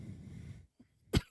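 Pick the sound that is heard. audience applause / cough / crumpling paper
cough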